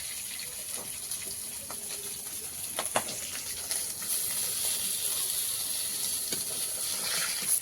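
Chopped onion sizzles in hot oil in a wok, a steady bright hiss with a few crackling pops that swells louder toward the end.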